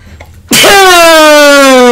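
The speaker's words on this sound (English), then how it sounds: "Oh, I need a sneeze." One loud, sudden human sneeze that stretches into a long, drawn-out voiced wail, which slowly drops in pitch and holds right to the end.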